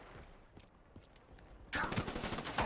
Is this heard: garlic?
no